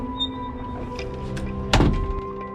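A door closes as an audiobook sound effect: a single solid thunk of moderate loudness over a faint steady hum, with no talk.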